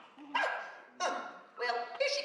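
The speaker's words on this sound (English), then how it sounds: "Don't interrupt while someone's barking." A dog named as Miss Locke's barks in three or four loud, close bursts spaced roughly half a second apart, in a scene from the Mary Poppins musical film.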